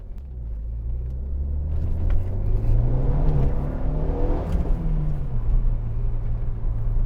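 A Renault Megane RS driven hard on a back road, the engine note rising in pitch as it accelerates through the revs, then settling into a steady loud drone with road rumble beneath.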